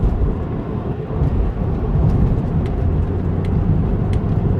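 A steady low rumble of a car driving along, broadband road and engine noise that holds at an even level throughout with no talking.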